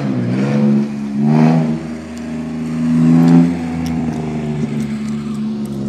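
An Infiniti G35 drifting, its engine revving repeatedly in rising and falling surges, fairly close and loud, with a steady low mechanical drone between pulls and no talking.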